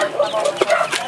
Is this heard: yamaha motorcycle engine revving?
no